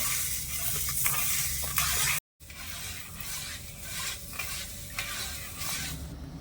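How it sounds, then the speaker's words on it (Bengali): Sugar, water and cardamom being stirred into a syrup in a pot, with steady scraping and swirling strokes and a faint background sizzle, broken by a brief silent gap midway. "ভালো করে নেড়ে চেড়ে চিনিগুলো গড়িয়ে নেব আর একটা রস তৈরি করে নেবো"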